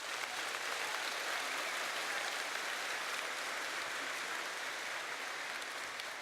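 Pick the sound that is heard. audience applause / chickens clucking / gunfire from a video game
audience applause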